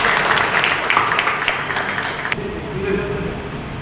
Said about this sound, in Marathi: त्यांचं आपण सगळ्यांनी टाळ्या स्वागत करतो